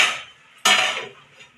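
A pot lid set down over red spinach cooking in a pot gives one sharp metallic clank, preceded by quiet background noise and followed by a fading rattle. The sound is close and fairly loud.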